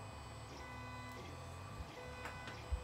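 A 3D printer fitted with a custom-built hotend runs steadily nearby, giving a continuous mechanical hum and whine with a few soft ticks and clicks from the moving head.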